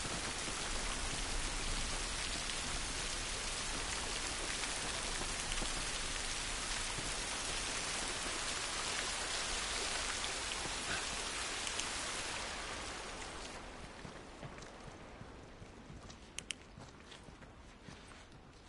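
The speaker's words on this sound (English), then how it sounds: "at least we're out of the rain" Heavy rain pours in The Last of Us as a loud, wide hiss that fills the first twelve seconds, then fades to a muffled patter as if heard from under cover, with a few faint footsteps and knocks.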